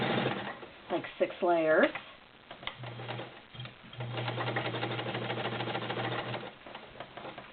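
Heavy-duty vintage Kenmore 1301 sewing machine stitching upholstery fabric with a backing, a steady humming run in two bursts after a brief spoken remark, close and moderately loud.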